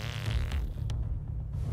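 A short, low, rumbling fart sound effect from the video game South Park: The Fractured but Whole, heard up close for under two seconds with no speech over it.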